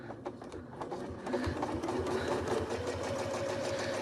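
Sewing machine stitching rapidly while free motion quilting a feathered wreath: a close, continuous fast mechanical rattle and hum that steadies and grows slightly louder after the first second.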